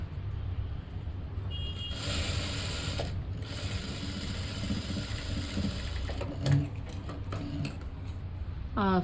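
A sewing machine stitching the shoulder seam of a blouse, a steady mechanical whir with short starts and stops and small clicks, close and fairly loud with no talk.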